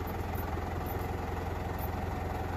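Tractor engine running steadily and loudly while lifting during the dismantling of an old mango tree, a continuous rumbling drone with no break.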